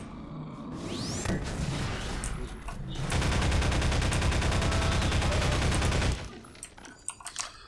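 Half-Life 2: Episode One gameplay with a burst of rapid automatic gunfire lasting about three seconds in the middle, framed by scattered game sounds and a few fainter shots near the end.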